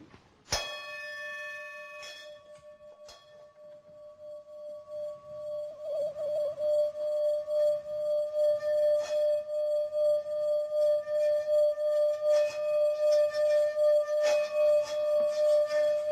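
A struck bowl gives one sharp ring, then is sustained as a pure, steady tone that swells and pulses rhythmically as it is circled, staying loud and close for about fifteen seconds, with no voices.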